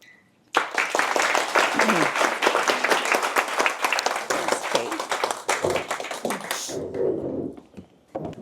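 Applause from an audience at a tap dance event, a dense burst of many hands clapping that starts abruptly, holds steady and loud for about six seconds, then fades into a voice talking.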